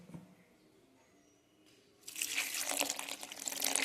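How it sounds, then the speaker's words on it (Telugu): Water poured into a blended moringa leaf juice mixture, starting with a few faint clinks and then a bright, steady splashing pour for the last two seconds. "ఇలా కొంచెం మిక్సీ చేసేసుకున్న తర్వాత ఇందులో వాటర్ యాడ్ చేయాలండి"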